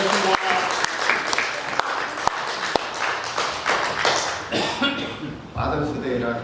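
A church congregation applauds fathers on Father's Day, a dense wash of hand claps running throughout, with some sharp louder claps near the start and a voice speaking under the applause toward the end.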